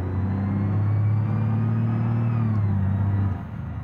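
Truck engine in the BeamNG driving game, a loud steady low rumble with a droning tone that holds for over three seconds, then eases slightly near the end.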